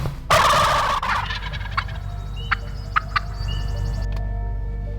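A male wild turkey's loud gobble bursts out near the start, followed by a few short calls and some birdsong over a steady low outdoor rumble.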